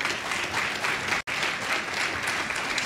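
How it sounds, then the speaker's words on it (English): Audience at a COP26 climate panel on Congress' climate agenda applauds senators, a dense, steady wash of clapping that fills the room, broken by a brief instant of silence midway before resuming at full strength. "Please give our senators a big round of applause."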